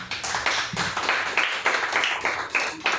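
A church congregation claps in a quick, fairly regular rhythm, sharp hand claps close and prominent with no talking over them.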